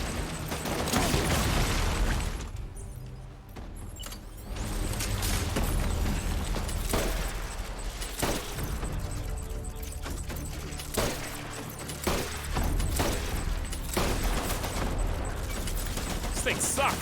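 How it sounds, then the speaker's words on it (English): Explosive launcher shots and blasts boom through the Death Stranding game fight, a steady dense barrage with mechanical clicks and reload rattles between bursts, fairly loud and continuous, with a voice talking over parts. "Pepper him with the grenade launcher"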